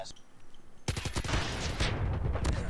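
RPD light machine gun firing in COD Mobile: after a quieter lead-in, a sudden rapid burst of automatic gunfire with loud, closely spaced shots and a sustained rattle, continuing to the end.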